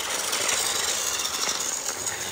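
Steam engine Lady and diesel engine Diesel 10 running along a railroad, a loud, steady hissing rumble with continuous chuffing texture and no voices.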